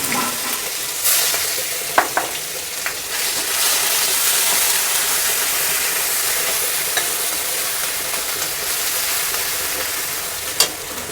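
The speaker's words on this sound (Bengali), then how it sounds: "আমার রসুন বাটাটা ভাজা হয়ে গেছে" Garlic paste frying in a pan of oil left over from frying fish, a steady close sizzle throughout with a few sharp spatters and clinks, no talk.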